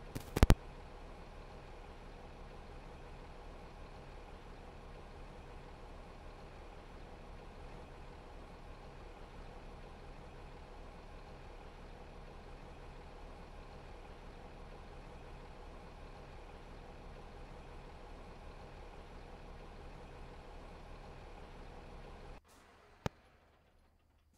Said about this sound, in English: driving the heavy duty tractor back to the wall factory with this trailer